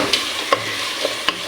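Cut cauliflower florets sizzle steadily in hot oil in a pan, close up, with a few sharp clicks of a spoon scraping and stirring and no talking.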